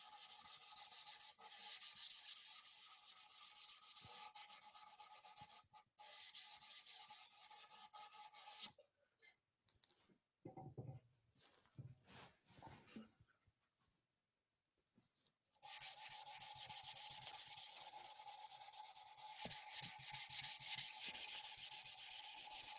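Sandpaper rubs over wood coated with a shellac finish in long, even rasping strokes, loud and close, broken by a quiet pause midway before the sanding resumes strongly.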